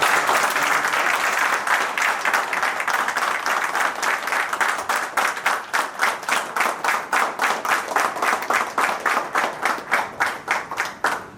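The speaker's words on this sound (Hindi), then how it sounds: "मैं चाहूँगा कि ज़ोरदार तालियों से स्वागत।" A hall audience at a branch felicitation ceremony applauds loudly to welcome the managing director, a dense wash of clapping that gradually loosens into distinct rhythmic claps toward the end.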